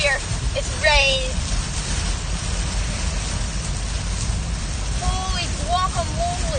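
Steady rain drums on a car during a stormy drive, a broad continuous hiss filling the whole stretch while voices talk faintly over it.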